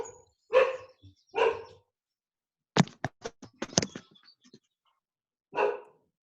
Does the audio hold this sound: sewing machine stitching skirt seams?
no